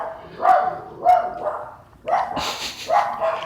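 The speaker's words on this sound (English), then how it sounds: "my neighbor's dog barks at" A neighbor's dog barks repeatedly at a moderate distance, giving about six sharp, separated barks over a few seconds, with a slightly whiny edge to some of them.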